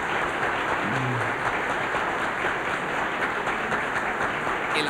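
Sustained applause from Ibero-American presidents and heads of state at a summit, a steady dense clapping that holds at even loudness throughout, with no voices rising above it.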